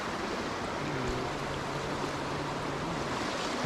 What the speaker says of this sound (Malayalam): നല്ല ഒഴുക്കും ഒഴുകി പോകുന്നത് നല്ല ശക്തമായി